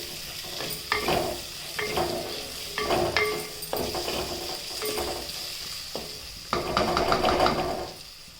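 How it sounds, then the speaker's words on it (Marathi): Tomato frying in a pan with potato, being stirred over and over with a utensil, steady sizzle under repeated scraping strokes, close and fairly loud, no talking. "टोमॅटो टाकून घ्यायचा चांगलं भाजायचं"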